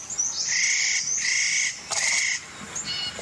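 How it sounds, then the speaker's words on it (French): A spotted nutcracker, a mountain bird, calls in a series of harsh, rasping notes with shorter chirps between them, fairly close and clear against a quiet background. "un oiseau de montagne, le casse-noix moucheté"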